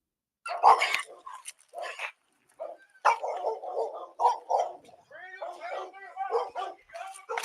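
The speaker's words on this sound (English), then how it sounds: "He threatened to shoot the dog that's on his front lawn, on his property." A dog on a front lawn during a police confrontation gives repeated barks, yips and whimpers in irregular bursts, close and fairly loud, mixed with voices.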